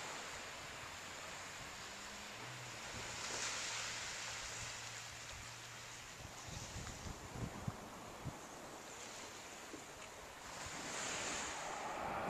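Ocean waves wash onto a beach at Coles Bay, Tasmania, a soft, distant, steady surf hiss mixed with light wind rumble on the microphone.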